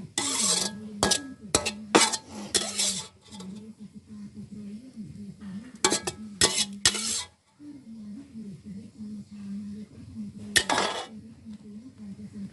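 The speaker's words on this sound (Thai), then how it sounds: "เพื่อนๆผัดผักบุ้งไฟแดงนะคะอร่อย" Metal utensils clank and scrape sharply against a pan while stir-frying morning glory, in irregular bursts, with a low hum running underneath between the strokes.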